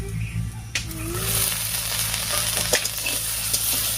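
Kanai greens sizzling and being stirred in a pan, a continuous bright frying hiss with occasional sharp scrape and clatter sounds from the stirring, close and fairly loud.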